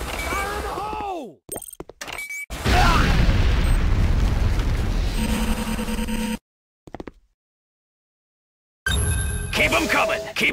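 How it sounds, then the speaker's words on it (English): A C4 charge detonates in the multiplayer shooter Renegade, a loud broadband blast that rumbles for several seconds, cuts to silence, then returns with more game noise and a voice talking. "C4 is set. Fire in the hole!"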